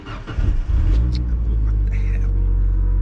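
A car engine starting up with no key in the ignition, with a brief cranking burst that settles into a loud, steady low idle close by.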